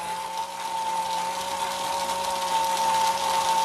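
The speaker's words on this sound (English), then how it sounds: "once again, with your cubes into your flush blender." A countertop blender crushes ice cubes with rum for tiki drinks, giving a steady, close motor whir with a high whine that builds slightly in loudness over a few seconds, with no talking.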